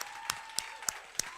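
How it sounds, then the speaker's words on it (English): Workshop audience applauding, heard as a few isolated sharp claps spaced evenly over a steady hum, sparse and fairly quiet rather than a full ovation. "Please give yourselves a round of applause"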